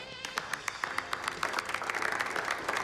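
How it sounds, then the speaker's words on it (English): An audience claps in quick, uneven bursts that thicken into a fuller round of applause toward the end, close and moderately loud. "You can clap now."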